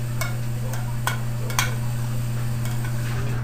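Faint clicks and light scrapes of a spoon tossing bulgur wheat in a heavy enamel-coated cast iron pot, a few sparse knocks over a steady low hum.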